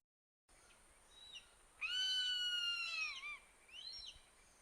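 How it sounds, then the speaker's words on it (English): A recording of a zone-tailed hawk plays: a single long, loud, drawn-out scream with a slight downward slur, followed by a shorter, fainter call, with no voices present. "And then here's zone-tailed hawk."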